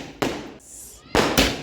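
A 12-shot firework cake goes off at night, sharp loud bursts near at hand: one blast, a hissing pause, then two quick reports close together.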